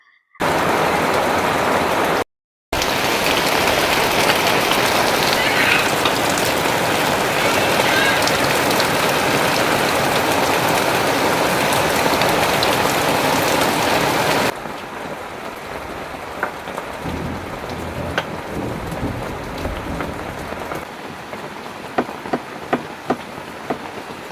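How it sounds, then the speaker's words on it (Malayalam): Heavy rain pours steadily in a dense hiss, then eases to a softer patter with scattered drips and taps. "കുറച്ച് സമയം ഒന്ന് മഴ കണ്ട് ആസ്വദിക്കണം"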